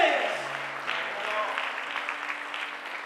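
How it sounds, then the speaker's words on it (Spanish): A church congregation applauds during a Spanish-language sermon, steady clapping with a faint sustained tone beneath, fading slightly toward the end. "denle fuerte ese aplauso al Señor"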